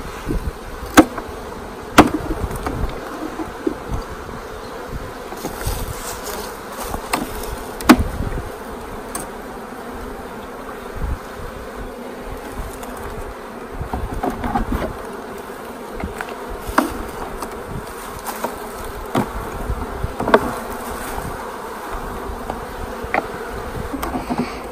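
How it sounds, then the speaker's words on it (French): Honeybees swarm around an opened hive as its frames are lifted out one by one, a dense, steady buzzing throughout with scattered sharp knocks and taps of wooden frames close by. "les abeilles battent le rappel"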